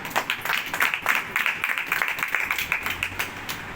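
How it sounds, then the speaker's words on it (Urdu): Loud, sustained applause from a church congregation, dense rapid clapping continuing steadily throughout without pause. "اور ان کے لیے زوردار تالیاں."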